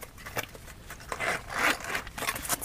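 Zipper on a small light blue quilted Michael Kors wallet being pulled open or closed, a soft scratchy rasp in several short bursts across a quiet, close-up background.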